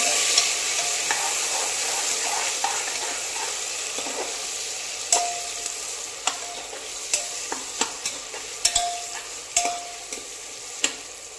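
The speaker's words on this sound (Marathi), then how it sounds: "आता यामध्ये टोमॅटो घालून घ्यायचा आहे आपल्याला आणि 1 ते 2 मिनिटांसाठी आपल्याला छान असा परतवून घ्यायचा आहे" Tomatoes and chicken sizzling in oil in a pan over a high flame, a steady hiss of frying with a spoon knocking and scraping at irregular intervals, growing busier as the stirring goes on.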